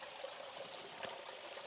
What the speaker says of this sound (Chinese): 看這裡的溪水，